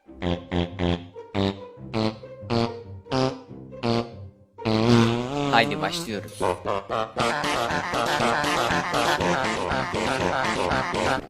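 A series of cartoonish fart sounds in a Minecraft toilet animation, first as short rhythmic bursts and then as longer, continuous blasts mixed with voices.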